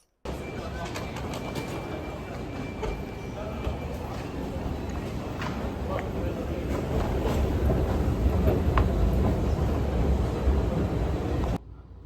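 Interior of the airport train at Jeddah airport: a steady, broadband rumble and rushing roar of the moving train, growing slightly louder toward the end, with faint clicks and no clear talk.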